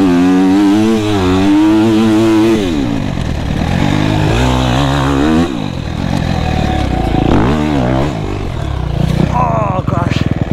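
A motocross motorcycle rips around a tight field track. The engine is loud and close, revving up and down through sharp throttle sweeps and gear changes, with some clattering as it slides and turns.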